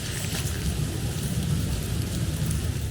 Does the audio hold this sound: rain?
yes